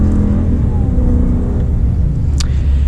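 A 2020 Ram 3500 Tradesman pickup with the 6.4-liter Hemi V8 accelerates, giving a steady low engine rumble and drone that stays loud and even throughout, with no talking.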